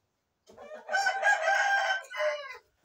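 An Indian rooster, a fighting breed being trained, crows once after a short silence, a loud, close, harmonically rich call that rises, holds and then ends in a brief final note.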